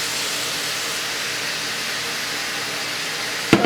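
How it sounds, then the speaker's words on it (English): Shrimp dropped into hot olive oil in a pan give a loud, steady hiss of sizzling that fills the whole stretch, ending with a sharp clatter near the end. "Alright, so we're going to put the shrimp in there."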